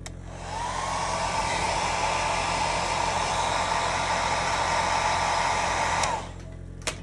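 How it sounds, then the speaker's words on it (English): A hair dryer blows loudly and steadily at close range for several seconds, then switches off, leaving a low background hum. "quick blow in the hairdryer"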